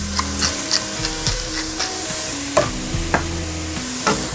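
Garlic, broccoli rabe and seasoning sizzle steadily in a pan for a Philly roast pork sandwich, with a constant frying hiss and occasional clacks of a utensil stirring the food.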